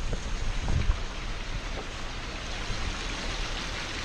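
Steady rushing water fills the scene, a continuous broadband roar like a waterfall nearby, with no voices, in Zion National Park, Utah.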